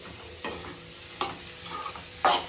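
Chicken and vegetables cooking over a high flame, a steady soft sizzle broken by three distinct scraping stirs spaced through the short stretch, close and with no voices.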